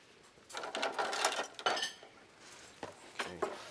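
A whisk clinks and scrapes against a bowl while beating a coconut oil mixture during a farm cooking class, in quick uneven metallic bursts with short pauses and no talk.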